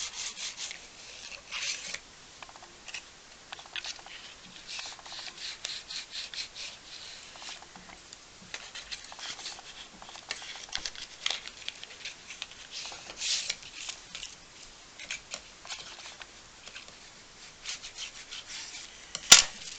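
A folded paper card is rubbed flat along its creased edges, a steady soft scraping and rasping that continues closely for the whole stretch with no talk.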